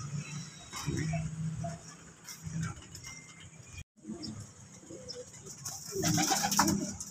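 Racing pigeons coo at a pigeon club in soft, repeated low calls, with rustling, light knocks and faint background noise around them, moderately close.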